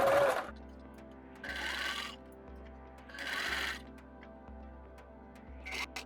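A domestic sewing machine stitches a seam through leftover fabric for a headband, running in three short bursts with pauses between them, close and fairly quiet with no talking.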